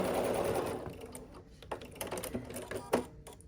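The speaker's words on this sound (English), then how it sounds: "now we'll just sew along the edge here with a 1/4 inch seam" Sewing machine stitching a quarter-inch seam on a quilt block, a faint, soft whirring chatter in short uneven bursts, heard close and quiet.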